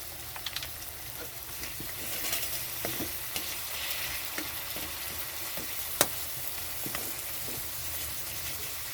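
Tomatoes stir-frying in a pan for pabda fish curry, a steady loud sizzle with repeated scrapes and taps of a spatula stirring close by, and no talking.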